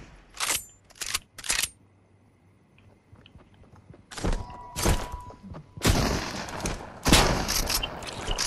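Gunfire in a Fortnite match, with three sharp shots close together, a quiet gap, then louder clustered bursts and continuous firing toward the end.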